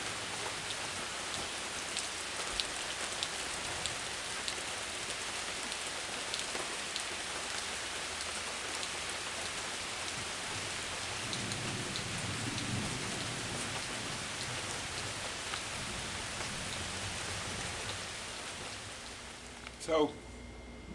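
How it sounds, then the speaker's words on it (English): Steady rain falls through a rainy evening on a weekend trip at Tellico Plains, a dense even hiss with a low rumble of thunder partway through and a brief sharp knock near the end. "Looks like just going to be a rainy evening."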